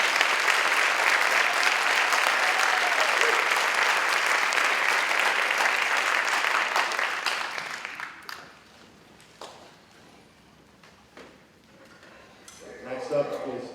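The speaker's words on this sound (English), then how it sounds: "One more round of applause for these guys." A school band's spring concert audience claps loudly and steadily in a hall for several seconds, then the applause thins out and fades, leaving scattered noises before a voice begins speaking.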